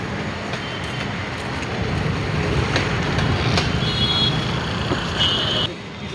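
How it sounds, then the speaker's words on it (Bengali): Metro train passing on an overhead track in Bangalore, a sustained rumbling roar with faint wheel squeal and high metallic tones, swelling then dropping away, no speech. "এটা হচ্ছে উপর দিয়ে মেট্রো ট্রেন যায়"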